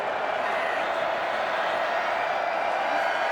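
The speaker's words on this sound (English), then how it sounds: "You can hear the Minnesota crowd here now." A dense, steady roar from a Minnesota football crowd fills a college stadium, loud and continuous throughout with no single voice standing out.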